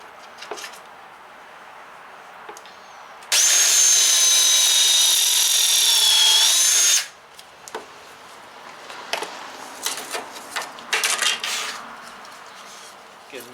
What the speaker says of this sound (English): And then we'll just go ahead and drill.